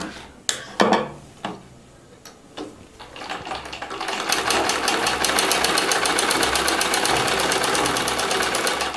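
A sewing machine stitches with its presser foot, starting with a few scattered clicks and knocks, then settling into a fast, steady, even mechanical patter that runs close and alone to the end.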